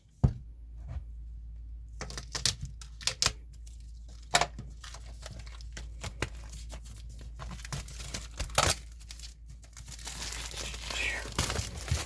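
Plastic and paper packaging around a Lone Wolf and Cub trade paperback comic crinkles and tears open in bursts of sharp crackles, close up, with quiet whispering voices underneath.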